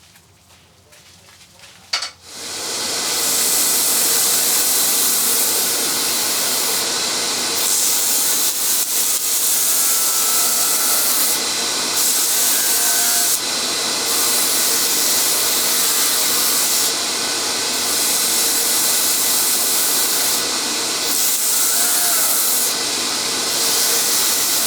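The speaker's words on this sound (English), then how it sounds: "So let's get going with the sanding." Power sander working a wooden platter spinning on a woodturning lathe, starting with a clunk and then a loud, steady hiss that runs on without a break, with faint rhythmic shifts as the sander moves.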